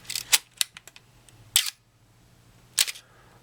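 A Canon A-1 35mm SLR camera is cocked and fired up close, giving sharp mechanical clacks and winding clicks: a cluster of snaps early on, then two loud shutter releases separated by quiet pauses.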